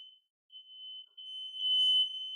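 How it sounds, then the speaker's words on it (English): A home smoke alarm sounds a faint, continuous high-pitched tone that breaks off briefly, then resumes and holds steady. "My smoke alarm just went off."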